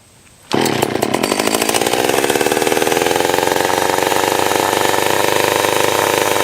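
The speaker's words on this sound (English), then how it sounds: "I'm going to get the saws fired up." An old Stihl 020 AV chainsaw engine roars to life abruptly and keeps running steadily with a loud, rattling two-stroke drone.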